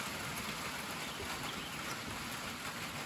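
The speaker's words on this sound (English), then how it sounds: "It is a rainy afternoon here in southeastern Kentucky." Steady rain falls on a rainy afternoon in southeastern Kentucky, a dense, even hiss of drops on surfaces that continues without pause, fairly close and uniform in level, with no voices.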